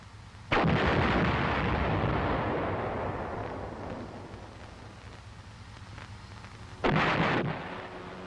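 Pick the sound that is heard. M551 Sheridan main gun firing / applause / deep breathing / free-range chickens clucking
M551 Sheridan main gun firing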